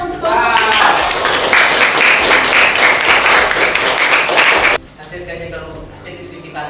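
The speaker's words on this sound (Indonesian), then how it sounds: "kita berikan tepuk tangan untuk kelompok" A classroom gives a student group a loud round of applause, dense clapping for nearly five seconds that stops abruptly, followed by a quieter stretch of room sound and a voice speaking.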